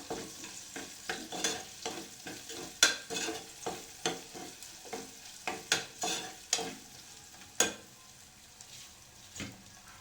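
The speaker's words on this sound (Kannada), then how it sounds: "ಇದು ಕೂಡ ಎಣ್ಣೆಯಲ್ಲಿ ಫ್ರೈ ಮಾಡಬೇಕು." Chopped green chillies fry in oil while a spoon stirs them, sharp rhythmic scraping strokes over a soft sizzle, close and fairly quiet.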